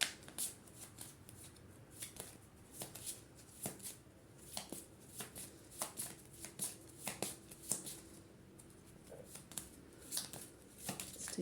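Tarot cards are shuffled and drawn in a steady run of quiet, crisp riffling flicks and slaps, close and soft, with only faint room tone between them.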